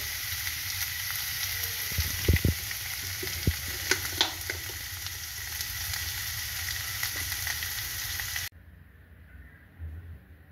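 Small boiled potatoes fry with coriander powder in a pan for aloo mirchi stuffing, a steady close sizzle with clattering stirs and scrapes that stops abruptly, leaving near silence.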